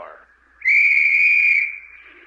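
A single whistle blast sounds loud and sustained for over a second, cutting in sharply then fading, in a radio comedy skit about a Miss Universe contest.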